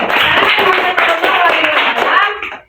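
A classroom of students claps hands together during a school lesson, a dense, steady burst of applause lasting a few seconds with voices chattering underneath before it fades out.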